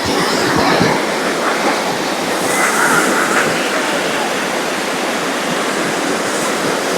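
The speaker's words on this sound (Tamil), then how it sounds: "இதாங்க சிற்றருவி ரொம்ப பெரிய ஃபால்ஸ் எல்லாம் இல்லை" Sitraruvi, a small waterfall in the Kolli Hills, pours steadily in a continuous broadband rush of falling water, close and loud, with faint background voices of bathers.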